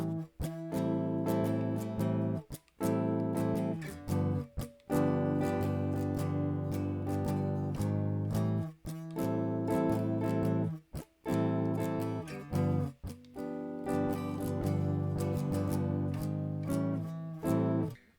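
An acoustic guitar plays a part with a steady strummed rhythm and sliding chord changes, full and close for about eighteen seconds, with no voices over it.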